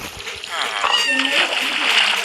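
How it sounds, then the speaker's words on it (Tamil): Water rushing and splashing in the video game Lokicraft 5, a bright broadband gush lasting a couple of seconds while a person talks over it. "தண்ணி வருது."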